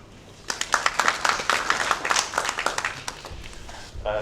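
A conference audience applauds a speaker at a session on Cameroonian decentralisation, with a dense, lively burst of clapping that builds, holds for several seconds and then thins out.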